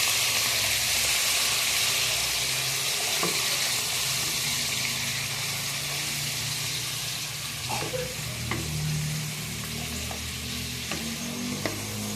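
Water is poured into a cooking pot of browned pork bones for a Filipino nilagang buto-buto soup, a steady rushing wash over sizzling that runs close and fairly loud for the whole stretch.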